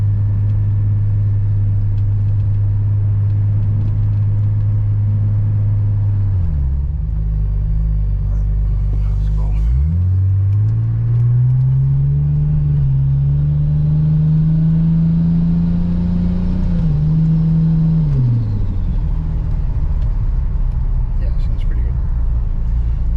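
A car is driven through its gears, its engine humming loud and steady from inside. The pitch drops sharply at each shift, then climbs smoothly as it accelerates, before easing back down.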